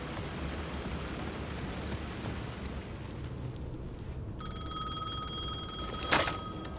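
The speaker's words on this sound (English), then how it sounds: "The phone was ringing again." A telephone rings once, bright and sharp, cutting through a steady wash of rain in the horror game Alan Wake 2; the rain hiss fills the whole stretch with no speech.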